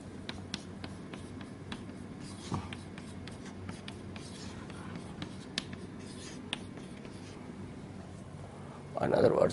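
Someone writes out a digital electronics equation by hand, leaving light, scratchy strokes and small taps at irregular intervals, with a louder burst of rubbing right at the end.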